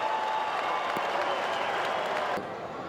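An Australian football stadium crowd at an Adelaide Crows versus Gold Coast Suns match in 2017 roars and applauds as a goal is scored, a loud, steady wash of cheering that eases slightly near the end.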